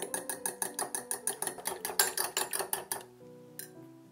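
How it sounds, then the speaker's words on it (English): A fork or whisk beats egg, milk and a pinch of salt in a bowl with quick, regular clinking strokes, about six per second, for three seconds before stopping. A couple of lighter taps follow. "put in a bowl 1 egg, 1 tablespoon of milk, and 1 pinch of salt. Beat all together."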